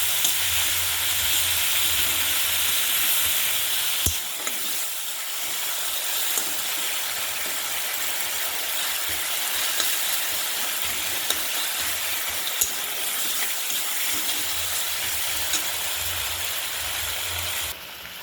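Tomato fish curry spice paste sizzles steadily in a pan, a dense continuous hiss with faint scattered pops and clinks, close and even throughout.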